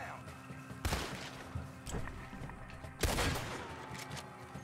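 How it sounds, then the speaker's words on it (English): Gunfire in the Red Dead Redemption II video game: two loud, sharp shots about two seconds apart, each with a ringing tail, plus a few softer impacts, over a busy background of game noise. "I just got to shoot him in the fucking arm."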